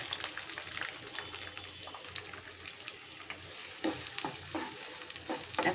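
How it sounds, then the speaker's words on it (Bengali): A cup of onions fries in hot oil already used for chicken, cooking down into crisp birista; a steady, close sizzle runs throughout, broken by scraping and clinking as a spatula stirs the pan. "এখন আমি পেঁয়াজের বেরেস্তা ভাজার জন্য 1 কাপ পেঁয়াজ দিয়ে দিচ্ছি।"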